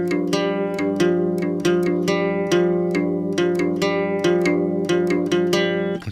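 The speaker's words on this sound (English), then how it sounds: "it's just like I said, a cheap little guitar" A cheap, small acoustic-sounding guitar strums steady, repeated chords with a bright, slightly thin tone, played alone at an even rhythm.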